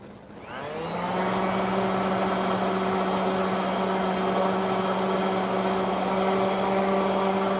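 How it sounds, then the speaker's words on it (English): A power sander spins up from quiet to a steady, loud whine while sanding a gouge out of a wooden cutting board, holding a constant high-pitched drone with no talk. "Now I got to sand that out of there, because I'm not scrapping the board."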